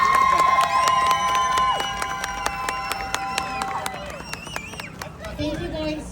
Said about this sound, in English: give them a round of applause really loud